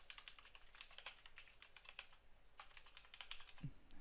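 Rapid, quiet clicking of a computer keyboard as a description is typed in, an even run of soft keystrokes with no voices.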